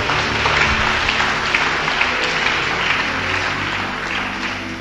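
A church congregation applauds and cheers in praise of God, a dense, steady wash of clapping and voices that carries through the whole stretch at an even, fairly loud level.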